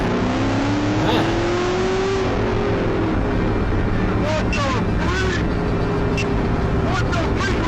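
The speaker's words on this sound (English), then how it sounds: "That's a really loud car." A loud car engine revs with rising, droning pitch sweeps over heavy roaring noise, continuous throughout, with voices speaking over it.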